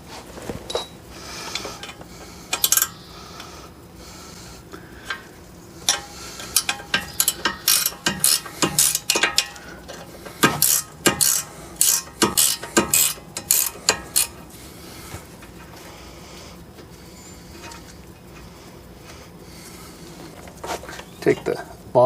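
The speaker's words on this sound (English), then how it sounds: "ratchet wrench." A 17mm ratchet wrench works the brake caliper support bracket bolts on a 2010 Hyundai, with quick bursts of close metallic ratcheting clicks that come and go over a steady background while someone talks.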